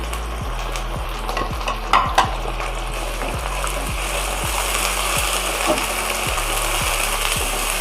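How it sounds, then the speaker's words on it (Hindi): Beef pieces sizzle loudly in a pot with browned onions, the steady frying hiss broken by scraping stirs and a couple of sharp spatters, with no talk over it. "दो से 3 मिनट के लिए इसको भी अच्छा सा फ्राई कर लेंगे।"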